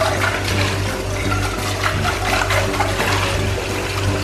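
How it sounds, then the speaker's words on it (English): Water is poured into a cooking pot in a steady, loud, continuous rush for several seconds, with no voices over it. "Put some water inside."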